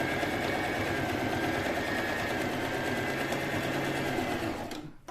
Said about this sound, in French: je fais cette deuxième ligne de piqûre